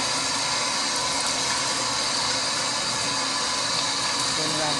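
Water running from a tap while hands are washed, a steady loud hissing flow throughout.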